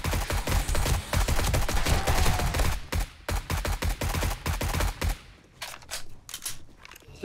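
AR-15 rifle fire in the zombie game 7 Days to Die, with rapid close bursts of shots in quick succession, then sparser, separated shots toward the end.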